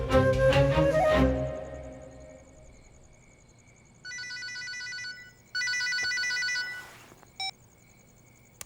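A telephone rings in short electronic bursts: three rings after a louder opening sound, the last one brief, with quiet gaps between them and no talking.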